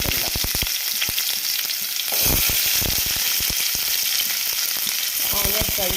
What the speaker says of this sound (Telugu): ఆయిల్ వేడినాక కొంచెం జీలకర్ర, కొన్ని మెంతులు, కట్ చేసి పెట్టుకున్న ఆనియన్ వేసుకుందాం.